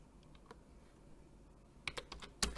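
A command is typed on a computer keyboard as scattered, faint keystrokes tap out in the quiet, ending in a sharper cluster of clicks like an enter key press.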